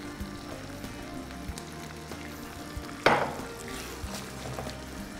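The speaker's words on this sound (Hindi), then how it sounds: "Let it cook and let it have those little simmering bubbles on your cream" Cream for Tuscan chicken simmers in a pan over turned-down heat, making a soft, steady bubbling sizzle with a sharper clatter midway, and no voices.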